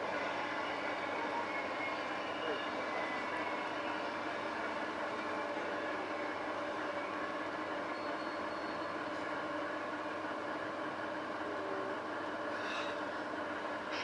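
An express train running steadily into Sunshine Station, a continuous rumbling hum of the carriages heard from inside, moderately loud and unbroken.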